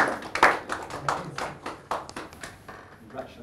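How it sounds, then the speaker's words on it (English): Applause for an attendee at a youth skills and empowerment ceremony, a short round of clapping from a modest group, with hand claps standing out near the start and fading toward the end, mixed with murmured voices. "Let's give Winnie a round of applause, please."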